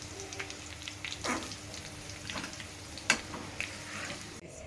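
Bitter gourd pakoda frying in hot oil gives a soft, continuous sizzle and bubbling close by, broken by a few brief louder crackles and stirring scrapes.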